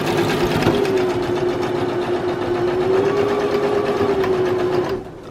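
A sewing machine runs continuously, stitching a fabric scrunchie while its thread is nearly used up, a steady close whir holding for about five seconds before cutting off.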